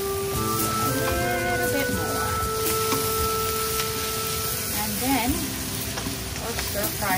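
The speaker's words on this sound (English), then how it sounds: "We're going to saute this." Vegetables with fennel and red chili flakes sizzle steadily in a hot stir-fry pan, a close, continuous crackle with occasional stirring scrapes throughout.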